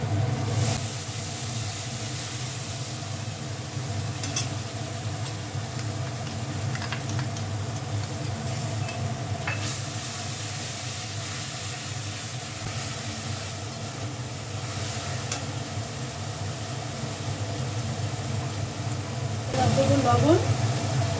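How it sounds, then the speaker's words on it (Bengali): Ginger paste, garlic paste, cumin, two dried chillies and four cashews fry in hot oil for pointed gourd with prawns, giving a steady, even sizzling hiss. A voice speaks now and then over it. "এবার কষাবো।"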